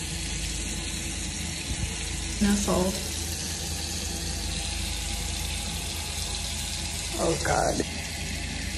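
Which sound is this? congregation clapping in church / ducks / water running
water running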